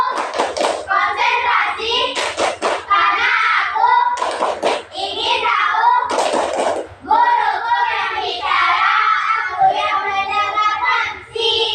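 Children in a classroom doing a concentration clapping game, sharp bursts of hand claps in rhythmic groups alternating with loud chanted voices throughout.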